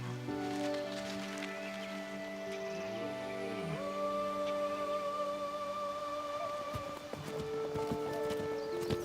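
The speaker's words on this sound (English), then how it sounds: "Przalski's horse can be found here too." Przewalski's horses move through the abandoned Chernobyl zone, hooves clip-clopping steadily beneath a layered music score that dominates the mix.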